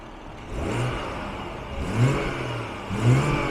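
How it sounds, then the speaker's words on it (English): Three short throttle blips from a 2018 BMW M240i Convertible's turbocharged engine, each rising and falling quickly, with the motor idling in between. "We're going to try to rev it up a little bit"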